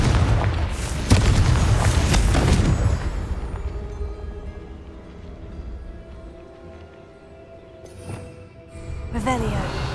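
A Confringo spell explosion in Hogwarts Legacy booms loudly up front and rumbles away over several seconds, followed by a quieter later burst, with a voice calling out over it.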